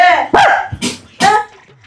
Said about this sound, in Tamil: நாய் மேல குலைக்கிறான் எனக்கு சத்தம் கேக்குதா உனக்கு